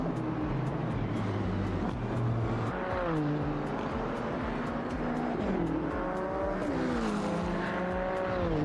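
Older supercars racing in Automobilista 2, engines droning continuously with rising and falling pitch through gear changes, several cars audible at once with no voices.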